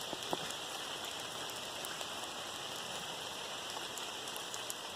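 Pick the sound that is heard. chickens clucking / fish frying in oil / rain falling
rain falling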